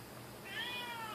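A cat gives a single clear, rising meow indoors, heard close and alone over quiet room tone.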